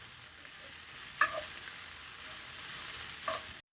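Beef and onions browning in a pan for slow cooker beef stew give a steady, moderate sizzle, with two brief louder scrapes of stirring near the start and end.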